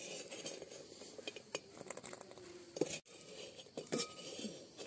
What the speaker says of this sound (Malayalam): ഇത് നമുക്ക് കോരിയെടുക്കാം നമ്മുടെ പാത്രത്തിൽ.